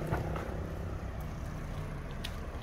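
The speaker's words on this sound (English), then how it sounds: "There's quite a few cars coming down the street." Cars driving down Walking Street in Pattaya, a steady low rumble of engines and traffic noise filling the whole stretch at moderate level, with no talk.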